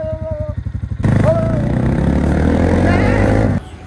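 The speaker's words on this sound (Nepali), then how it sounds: "छेउमा त अहिले बाइकले हाल्छ।" A motorcycle in Kathmandu roars past at close range, loud and steady for a couple of seconds after a quieter pulsing engine, then drops away abruptly.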